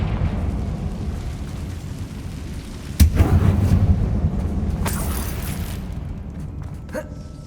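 A Confringo fire spell blasts in Hogwarts Legacy inside an old closed mine resembling a tomb: one loud sudden boom with a rumbling tail, followed by a softer burst moments later over steady game ambience.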